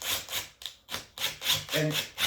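Screw driven into MDF or plywood without pre-drilling, a series of short rasping, creaking bursts repeating about every quarter second, close and fairly quiet.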